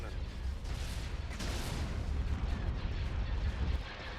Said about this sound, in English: Laser cannon.